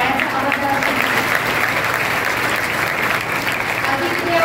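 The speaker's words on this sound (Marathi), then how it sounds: "टाळ्याचा आवाज" Sustained crowd clapping fills a student felicitation ceremony, loud and dense from start to finish, with a voice faintly audible beneath the applause.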